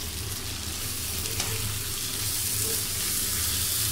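Fried shrimp go into a sizzling spice paste in hot oil for a Bengali chingri malaikari, making a loud, dense, steady sizzle that is close up and continuous, with no voices.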